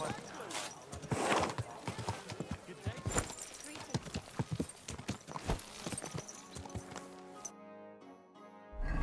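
Horse hooves in Kingdom Come Deliverance II, a steady run of clip-clop footfalls at a walking pace for most of the stretch, ending in a brief musical game chime, under faint ambient game sound.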